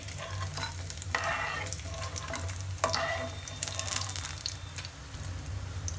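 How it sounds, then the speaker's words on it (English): Oats frying in hot oil, giving a continuous close sizzle and bubbling with occasional louder crackling bursts and stirring scrapes throughout. "Let them fry for a while. They are nicely fried."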